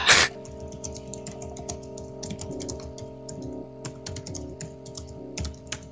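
Rapid typing on a computer keyboard, a close run of light clicking keystrokes in uneven bursts, with no talk.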